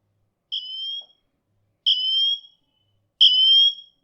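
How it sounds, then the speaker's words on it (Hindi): Apple Watch Ultra emergency siren sounding three separate loud, piercing two-tone bursts, each roughly half a second long with short silent gaps between them, heard alone with no talking. "यहाँ पर हम इस ऑप्शन को यहाँ पर ऐसे ड्रैग करके सायरन को एक्टिवेट कर सकते हैं।"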